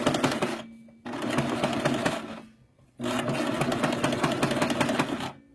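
A sewing machine sews a long straight gathering stitch at its largest stitch length with no backstitch, in two close bursts of rapid whirring and clatter with short pauses between them.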